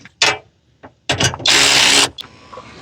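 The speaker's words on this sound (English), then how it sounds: "We'll go ahead and tighten up the bolt that we just added." A ratchet tightens a bolt on a mudflap fitted to a 2024 RAM dually pickup, giving a few short, close clicking bursts and then one sustained loud run of rapid ratcheting before it stops.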